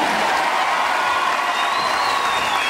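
Steady applause from an audience at a concert in Ünye, dense and continuous throughout with crowd noise and a faint high tone.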